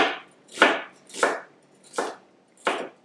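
A knife dices a white or yellow onion into tiny pieces on a cutting board, five crisp, evenly spaced chops close up with no voices.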